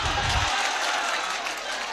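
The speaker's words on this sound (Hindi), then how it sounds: "एक बार जोरदार तालियां मेरे भाई के लिए," An audience at an Urdu poetry recital applauds in a steady wash of clapping, with a brief low thump at the start, moderately loud and sustained throughout.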